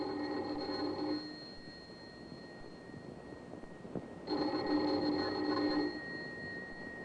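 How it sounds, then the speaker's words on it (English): A doorbell on an apartment door rings in an old radio crime drama, two sustained electric bell rings separated by a pause, fairly quiet and heard alone without voices. "Let's begin this tale with the ringing of a doorbell."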